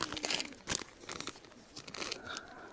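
Crinkly plastic food packet being handled and torn open outdoors on a camping trip, sharp rustling bursts and crackles close to the microphone.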